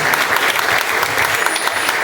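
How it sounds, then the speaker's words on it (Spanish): Loud, dense applause from an audience at a book fair novel presentation, steady clapping filling the whole stretch without a break. "Muchas gracias por estos aplausos."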